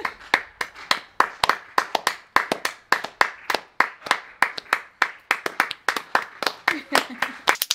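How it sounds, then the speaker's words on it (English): Hands clapping loudly and fast in a quick, steady rhythm of sharp close claps from one or a few people, kept up throughout, with voices underneath. "If you don't clap to the kids next door, you've been defeated."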